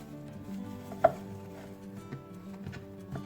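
Fresh coriander being chopped with a knife on a board, a few quiet, close thuds at an uneven pace, with one sharper knock standing out.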